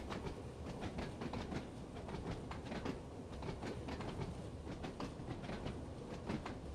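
A train coasting and then braking in the Train Sim World 2 game on the Isle of Wight route: a steady rumble of wheels with rhythmic clickety-clack over rail joints, at moderate level, with no voices.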